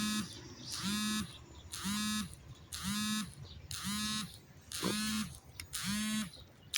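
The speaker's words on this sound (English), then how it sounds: "My phone's going off." A phone alarm beeps in a steady repeating pattern, about seven evenly spaced electronic bursts roughly once a second, fairly loud and close, with no talk over it.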